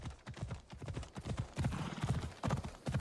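Phobos the horse galloping in Assassin's Creed Odyssey, a steady close run of clip-clop hooves for a few seconds with no talk over it.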